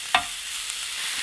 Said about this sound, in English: I'm not sure if you can hear me over the sizzling